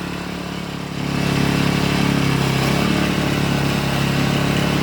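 A small garden tiller engine runs close by, a loud steady drone that rises as the throttle opens about a second in and then holds at a higher, even pitch.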